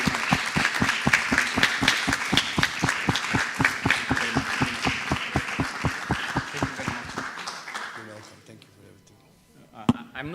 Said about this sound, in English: Please give an applause to Florian again.